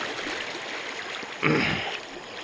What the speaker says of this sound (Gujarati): માલન નદીમાં બહુ મસ્ત પાણી જાય છે